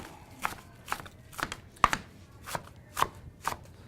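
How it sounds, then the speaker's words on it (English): A knife chops quickly through baby spinach leaves on a cutting board, about eight crisp, evenly spaced strikes, close and clear with no talking. "I am going to just real quick run a knife through it"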